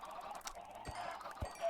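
Chickens in the Minecraft video game make a few soft clucks over a faint background, with a couple of short low thumps, quiet and with no voices.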